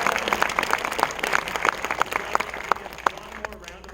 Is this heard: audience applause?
yes